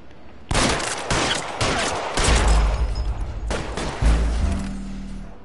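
Several loud gunshots ring out close by in L.A. Noire, sharp cracks in quick clusters with heavy low booms and echoing tails across a street shootout.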